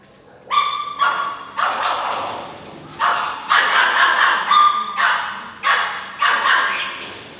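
A dog barks repeatedly and loudly at close range in a series of sharp, evenly spaced barks, with faint yips mixed in.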